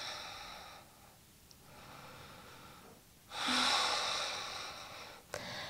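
Deep, audible breathing during a seated yoga twist in a vinyasa detox session: slow, breathy inhales and exhales, the last one a fuller, louder rush of air near the end, heard close and alone.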